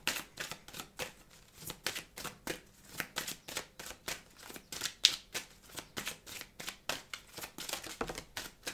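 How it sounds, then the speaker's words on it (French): Tarot cards are shuffled and laid out in a rapid run of crisp, close riffling flicks and soft slaps, with steady bursts of card noise across the whole stretch and no voice. "Je vais vous rajouter des cartes."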